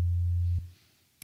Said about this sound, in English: You have this really simple sound, which is a sine wave.